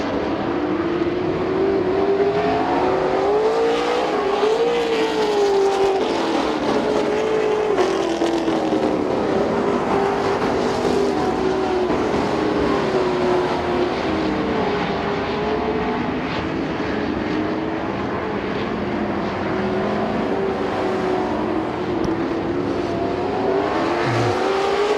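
Race cars roar around the Speedzone track, engines droning continuously at high revs with a rising and falling tone, loud and sustained, no voices audible.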